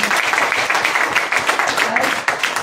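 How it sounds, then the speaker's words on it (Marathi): Audience at a juice product sales meeting gives a burst of loud, sustained clapping, many hands close together, with voices faintly underneath. "परत एकदा या प्रोडक्ट साठी एकदा जोरदार टाळ्या वाजवा."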